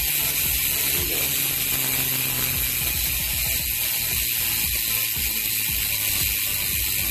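A bicycle wheelset with ceramic bearings and an EEC Race freehub spins freely, giving a steady, fast, buzzing ratchet clicking that continues evenly throughout at moderate volume.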